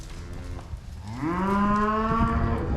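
A steer or heifer in a barn bawls one long, loud, rising moo that holds to the end, preceded by faint rustling.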